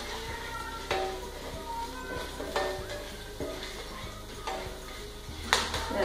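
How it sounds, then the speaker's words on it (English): Hot oil with whole spices sizzles steadily while peppercorns burst in sharp pops and crackles at irregular intervals, close by, with a faint low hum underneath. "you can hear the sound of the pepper bursting."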